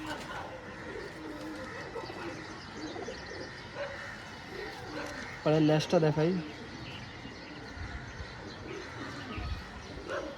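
Someone talks throughout at a pigeon dealer's shop while a fancy pigeon gives a brief, low cooing call near the middle, with faint bird chirps in the background.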